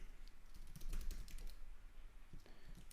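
Fingers tap out a terminal command on a computer keyboard, a quick close run of clicky keystrokes in uneven bursts with a short pause before a final few presses.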